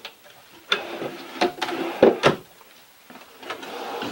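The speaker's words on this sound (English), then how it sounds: "we've got some functionality going with the top drawer" An RV drawer in a 2020 Entegra Coach Aspire 44B motorhome slides and knocks shut, giving a few close, sharp clacks and short sliding rattles spread over a few seconds, with no talk.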